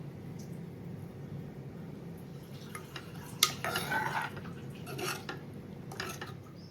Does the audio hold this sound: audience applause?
no